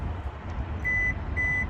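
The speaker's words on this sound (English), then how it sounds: "press and hold that button until it beeps." Two short, clear electronic beeps about half a second apart from a 2023 Kia Sportage power liftgate button, sounding over a low engine-like rumble in the background.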